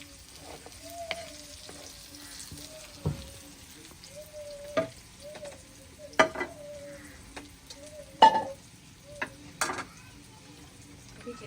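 Browned onions and green garlic fry in a pan, a soft steady sizzle punctuated by repeated utensil knocks and scrapes against the metal.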